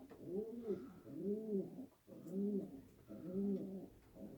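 Homing pigeons coo in a steady rhythm, four rounded, rolling phrases in a row, close and clear with a short pause between each call.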